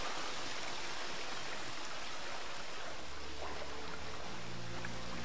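Flowing water in The Witcher 3 makes a soft, steady rushing wash like a stream, low in level and unbroken, with a faint low hum joining in the second half and no speech.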